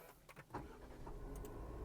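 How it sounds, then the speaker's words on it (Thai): A 2024 Toyota Yaris 1.2 Smart started by push button with the brake held: a brief starter whir, then a steady low engine idle, heard from inside the car. "เป็นพุทสตาร์ทแล้วเรียบร้อยครับนะเหยียบเบรกกดเลยนะครับ"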